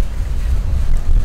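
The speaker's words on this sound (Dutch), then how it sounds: "Maar ja, het zijn vooral windvlagen." Gusts of wind buffet the microphone at the outdoor Jaap Eden speed skating rink in Amsterdam, a steady low rumbling roar through the whole short stretch.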